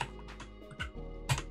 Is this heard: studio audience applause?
no